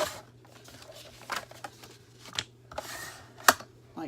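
A paper cutter slices through journal pages in short bursts, soft scraping swishes and a few sharp clicks spread irregularly over a few seconds, close and fairly quiet.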